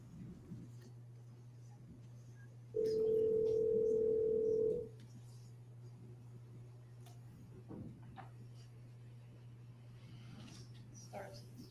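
A telephone dial tone from a recorded phone call played back in a courtroom, a steady tone lasting about two seconds over a constant low hum, with faint background voices.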